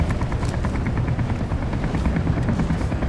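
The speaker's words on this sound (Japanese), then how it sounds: "ヘリの音がうるさくてさ、ちょっと敵がね分かりづらい。" Steady helicopter rotor drone from the video game ZombiU, a continuous loud chopping hum with a fast pulsing rhythm running unbroken throughout, close and dominant with no talk.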